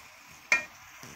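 Cabbage and capsicum stirred in a pan, one quick scraping stir stroke rising briefly over a faint, steady sizzle, with a softer touch near the end.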